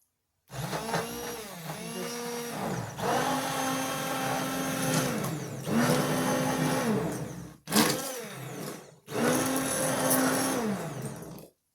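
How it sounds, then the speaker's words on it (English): A stick blender whirs in several bursts through cream of broccoli and chicken soup, its motor pitch rising and falling as it blends, with short pauses between runs. "This is a wand blender, stick blender they're called."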